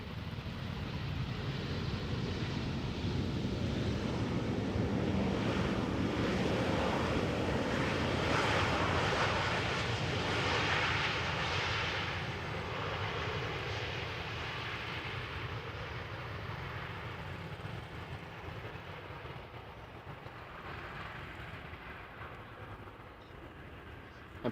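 An airliner arriving at Amsterdam Schiphol Airport gives a broad, steady engine roar that swells, then slowly fades while staying loud and continuous, with no speech.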